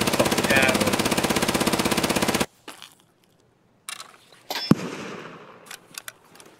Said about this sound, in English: he's shooting at someone down at the house